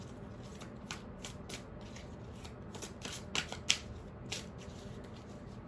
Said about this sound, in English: I'm going to do 3 more shuffles for Gemini